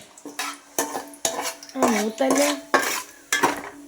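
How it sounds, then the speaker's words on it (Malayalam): A metal spatula scrapes and clinks against a pan in quick repeated strokes, stirring mustard and fenugreek seeds in a steady rhythm. "ഈ കടു ഈ ഉലുവ മൂത്ത് വരുന്നവരെ നമ്മളാണ് ഇങ്ങനെ ഇളക്കിക്കൊണ്ടിരിക്കുക"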